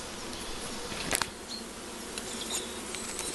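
A honeybee swarm settled into a hive hums with a steady, close buzzing drone, individual bees flitting past now and then over the continuous insect hum.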